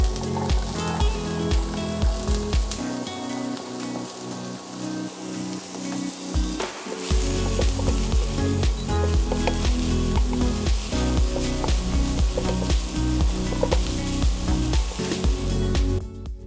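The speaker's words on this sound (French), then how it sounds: "Je vais mettre un peu d'huile d'olive. Je vais faire revenir un petit oignon que j'ai haché." Chopped onion sizzling steadily in olive oil in a pan, a dense continuous crackle and hiss with occasional stirring scrapes, close and fairly loud throughout.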